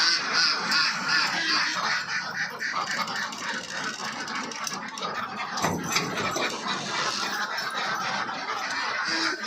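A flock of ducks on a duck farm, continuous overlapping quacks and chatter at close range, busy and fairly loud throughout, with no talking.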